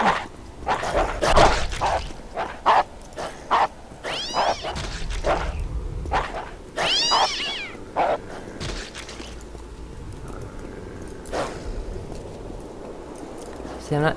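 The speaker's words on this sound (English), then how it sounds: "The dogs are killing the cat." Dogs barking and yelping while a cat screeches and caterwauls in the video game Postal 2, a burst of snarling, yowling animal cries over someone talking, trailing off into quieter sounds.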